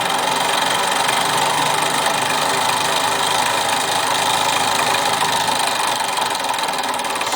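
A small Weeden 14 model steam engine, a late model with a no-rivet boiler, runs steadily with a continuous close, fairly loud hissing chug and mechanical rattle, no talk over it.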